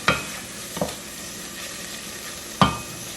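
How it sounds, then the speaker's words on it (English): Spices stirred into cooked tomatoes in a pan for a south Indian eggplant curry, a few distinct scraping stirs over a soft steady sizzle, close and moderately loud. "now I'm gonna add all this spices here and mix this all together"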